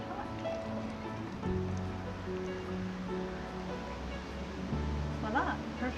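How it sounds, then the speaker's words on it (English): Hot Nutella-infused milk is poured over an espresso mixture, a continuous rushing, splashing liquid sound filling the whole stretch with low gurgles. "I'm going to pour this over my espresso mixture."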